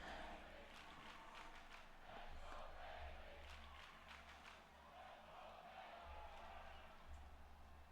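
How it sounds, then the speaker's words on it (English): Video game crowd in a WWE2K26 wrestling arena chanting for a wrestler ahead of a Money In The Bank match, a steady, dense roar of many voices with rhythmic surges, continuous and fairly loud throughout. "Crowd chanting for Bayley here as we get ready for this."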